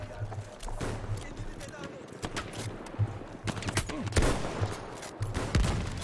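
Rapid gunfire in Battlefield 1 crackling through an indoor room, bursts of sharp shots scattered across several seconds over rumbling battle noise, with a voice talking underneath.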